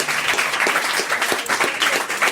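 Studio audience at a French television talk show applauding, a steady, dense wash of many hands clapping at close range, continuous and even with no voices standing out.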